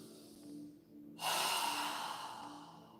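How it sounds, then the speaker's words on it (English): A deep breathing exercise during a yoga session: a soft inhale through the nose, then a strong, long, breathy exhale through the mouth, close and clear over a faint steady background tone. "inhaling through our nose and exhaling with a strong breath through our mouth"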